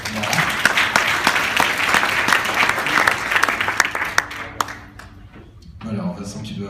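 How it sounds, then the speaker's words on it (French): Audience applauding at an innovation award ceremony: dense, steady clapping from a crowd fills the room, then thins and dies away near the end. "merci d'applaudir"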